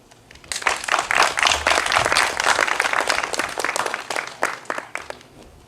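Sustained audience applause for student speakers at a county public schools senior reflections event, dense clapping that swells and then slowly thins out toward the end, with no voices over it.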